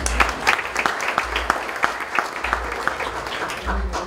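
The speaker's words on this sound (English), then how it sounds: "Our artists, big round of applause as well" Applause from diners at a charity foundation gala dinner, a crowd clapping in a brisk irregular patter with some individual claps standing out, while low thumping music continues underneath.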